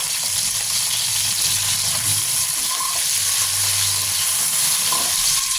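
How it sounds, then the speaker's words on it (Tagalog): Eggs frying in a little hot oil for adobong itlog, a loud, dense, steady crackling sizzle close up, unbroken for the whole stretch. "Pag mainit na, pwede na ilagay itong itlog. Ipiprito lang natin yan."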